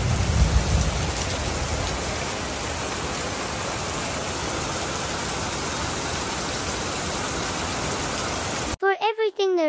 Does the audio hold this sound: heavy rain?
yes